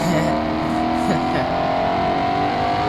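A Ford Mustang in BeamNG.Drive sits on the trans brake with its radiator removed, its engine droning loudly and steadily with a sustained rising tone.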